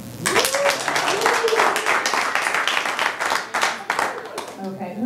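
A comedy club audience applauds at a stand-up show, dense clapping with whoops and cheers rising over it and voices calling out throughout.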